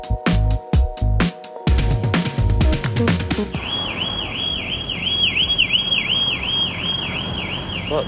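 Car alarm blaring loud and close beside a parked car in Portsmouth, first sounding a series of sharp repeated honks, then switching to a continuous rising-and-falling electronic whoop that wavers steadily to the end, with no talking.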